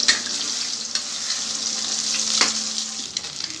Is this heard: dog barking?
no